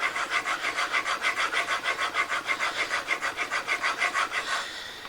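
A plane blade with a radiused edge is stroked back and forth on a sharpening stone, making a rhythmic series of close, evenly spaced rasping scrapes, roughly five per second, with no talking.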